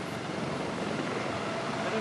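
Army aviation helicopters hovering low during an air display, a dense continuous rotor and engine roar at steady loudness throughout.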